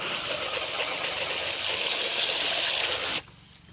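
Water runs steadily from a tap in a loud hiss as hands are rinsed while butchering chicken, then cuts off abruptly near the end.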